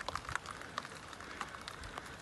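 Rain pattering on a wooden fishing boat under repair in Cornwall, a dense, steady patter of drops with a few sharper taps standing out, close by and fairly soft.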